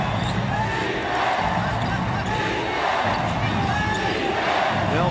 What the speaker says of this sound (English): Well, the crowd comes alive.